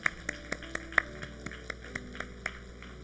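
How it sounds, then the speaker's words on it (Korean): A church congregation at a Sunday morning worship service gives a short round of applause to glorify God: a handful of distinct, fairly faint claps at an uneven pace over a quiet hum. "하나님께 영광 박수 올려드립니다."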